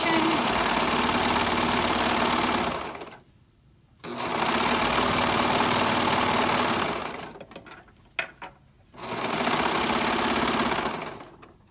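A sewing machine stitches along the folded edges of a fabric face mask in three steady runs of loud, even whirring, each broken off by short pauses with a few faint clicks between them.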